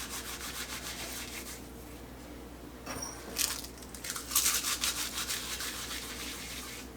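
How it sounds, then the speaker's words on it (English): Fresh sage leaves are crushed and rubbed between bare hands, a soft close rustling friction that swells into a few louder scrunching bursts. "I'll just grind them up in my hand like this"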